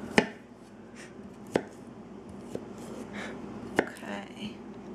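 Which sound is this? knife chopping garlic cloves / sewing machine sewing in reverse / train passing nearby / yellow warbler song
knife chopping garlic cloves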